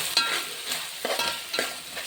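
Spices being stirred into an Andhra-style fish curry (chepala pulusu) in a pan, heard as a close, steady series of scraping strokes over a soft sizzle, with no talking.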